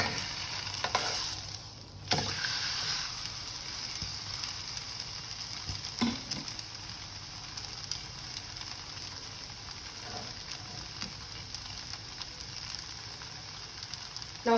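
A crepe sizzles steadily in a hot pan, a constant close frying hiss broken by a brief clatter as it is flipped over, with no voices.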